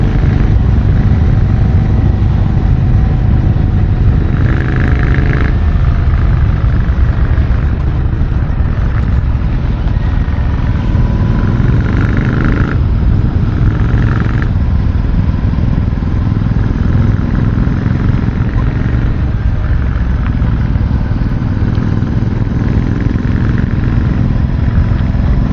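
A Royal Enfield Classic 650 climbs a mountain road, its engine running as a loud, steady rumble with constant wind roar from riding, close up and unbroken for the whole stretch.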